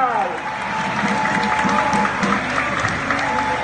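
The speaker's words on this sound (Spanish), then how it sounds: "Un aplauso a la Virgen de la Caridad" Crowd applause for the Virgen de la Caridad del Cobre at an outdoor procession, sustained clapping from many people with faint voices and a thin sung or spoken tone running through it.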